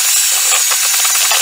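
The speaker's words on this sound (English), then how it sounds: "just use the mixer to mix that in instead of just folding it in" Electric hand mixer whirring steadily through butter cream pudding made with about half an 8-ounce tub, a continuous close buzzing motor with slight scraping variations and no talking.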